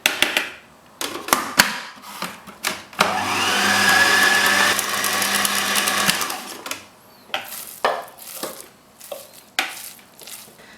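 A food processor blends mince for nargisi kofta in one batch: a steady motor whir lasts about three seconds, with close plastic clicks and clatter from handling the bowl and lid before and after.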